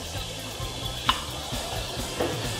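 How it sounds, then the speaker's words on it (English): Onion and celery fry in hot oil in a pot, giving a steady close sizzle with a couple of brief clinks of stirring, and no voices. "you hear that frying down very nicely"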